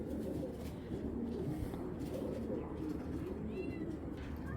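A Giribaz pigeon coos softly in a loft, low rolling murmurs repeating under a faint background, with a brief higher chirp near the end.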